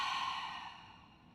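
A long, soft exhale of breath during a guided breathing exercise, close and airy, gradually fading out with no talk over it.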